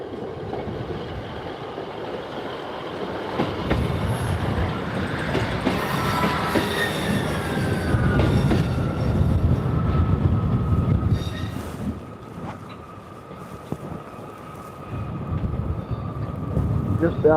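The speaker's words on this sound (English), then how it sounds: "We've got Northern train to his left. That's 158789" Northern train 158789, a diesel multiple unit, pulls away from Doncaster station toward Sheffield, with rumbling wheels, rail clatter and a drawn-out wheel squeal passing close by, while faint voices carry on the platform.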